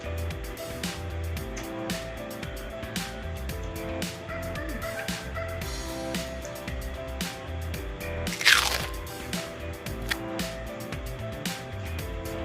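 During a mukbang, crunchy food is bitten and chewed close to the microphone, giving repeated sharp crunches scattered over a quiet, steady background.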